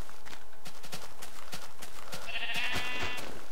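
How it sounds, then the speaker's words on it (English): Sheep in the video game Minecraft bleat near the end over a rapid patter of clattering game sounds, a short wavering cry that stands out briefly. "I punched sheep. They run like hell."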